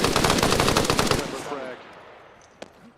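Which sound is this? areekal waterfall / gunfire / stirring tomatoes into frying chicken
gunfire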